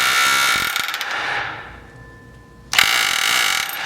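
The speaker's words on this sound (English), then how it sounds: "So that works just like a miniature jackhammer, and same thing as an air chisel." Loud, rapid pneumatic air hammer driving out rivets on a Ford F250 coil spring bucket, stopping and trailing into a quieter hiss with a faint whine, then bursting back in at full force.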